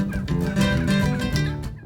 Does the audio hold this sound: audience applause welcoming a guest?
no